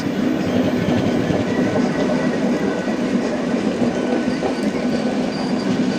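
A MEMU train rolls along near Secunderabad, heard from inside as a loud, continuous rumble with rattling wheels and a steady hum, no voices.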